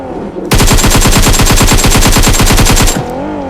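A loud, sustained burst of rapid automatic M4 assault rifle fire in a video game lasting a few seconds, evenly spaced shots, then cut off.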